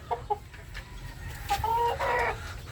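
Rooster clucking nearby in short scattered calls, a few soft clucks followed by a louder drawn-out cluck, with quiet farmyard background.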